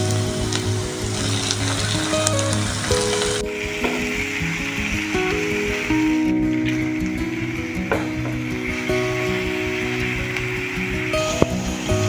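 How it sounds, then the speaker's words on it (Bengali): Onion, ginger and garlic fry in a little oil in a pan, giving a steady close sizzle with occasional scraping clicks from stirring, alone without talk. "আদা রসুনটা ভালো করে ভেজে নিয়েছি পেঁয়াজটার সাথে"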